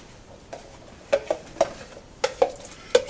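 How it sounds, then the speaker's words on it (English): Spoon stirring cornstarch slurry into hot blackberry sauce in a pot, giving a series of light clinks and scrapes, roughly six distinct taps spread irregularly, close and moderately quiet with no talking. "Stir in my cornstarch."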